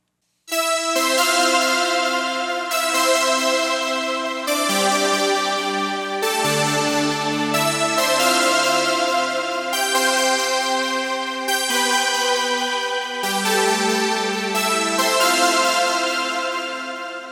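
A bright, buzzy synthesizer trance lead, modeled on the lead in a track, plays a continuous melodic sequence with sustained chord changes, full and loud throughout with no pauses.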